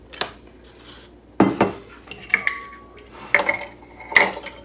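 Dry protein waffle mix being stirred in a bowl before water and egg are added, a few separate bursts of utensil scraping and clinking against the dish, close and fairly loud with quiet gaps between.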